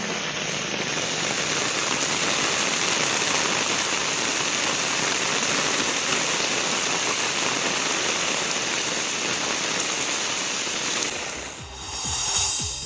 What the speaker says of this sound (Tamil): திருச்செந்தூரில் நேற்றிரவு மழை பெய்த நிலையில் இன்றும் தொடர்ந்து இடைவிடாமல் மழை பெய்தது